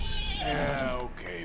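A horse in Red Dead Redemption 2 gives a loud, close neigh that whinnies through about a second and a half, with a voice talking over it.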